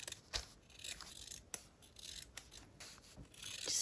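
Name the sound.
cutting corners off with scissors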